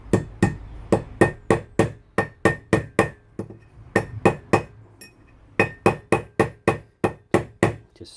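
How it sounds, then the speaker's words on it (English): Hammer tapping a wheel bearing race into the hub of a Mk3 Volkswagen Golf, giving a long series of sharp metallic taps in quick, even runs with brief pauses between groups. "Just start really gently tapping it and you'll feel it, you'll hear it go in"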